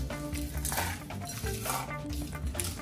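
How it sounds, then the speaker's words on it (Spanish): Crushed Doritos chips tossed onto raw ground beef for a burger, giving a few soft scattered rustles and crumbly pattering close by, with faint kitchen clatter underneath and no talking. "los doritos simplemente los vamos a aventar triturados, así"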